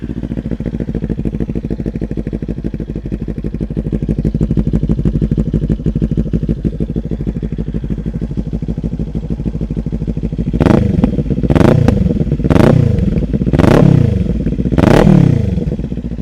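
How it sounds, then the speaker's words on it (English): A Kawasaki Ninja 400 with a cheap aftermarket exhaust idles loudly up close in a rapid throbbing burble, then gets about five sharp throttle blips, each a quick rising rev that falls back to idle. "So you are gonna get to hear the bike"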